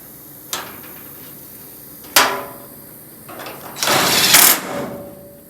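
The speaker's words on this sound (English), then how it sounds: "Let's get some self-tapping screws punched in here, a couple spots." Two sharp metallic clacks, then a loud whirring burst of a power driver spinning a self-tapping screw into the sheet metal floor pan of a VW Karmann Ghia, close by.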